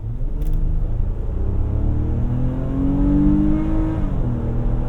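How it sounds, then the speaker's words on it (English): A 2024 Infiniti QX60 Autograph's naturally aspirated VQ V6, paired to a 9-speed automatic, revs hard under full throttle, its deep droning note climbing steadily in pitch before easing off, loud and close without any talking. "let's floor the gas, and you guys can hear this lovely V6 naturally aspirated paired to a 9-speed automatic transmission"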